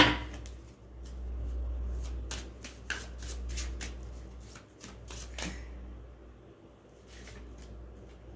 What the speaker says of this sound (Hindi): अगेन मैं दोबारा शफल करूँगी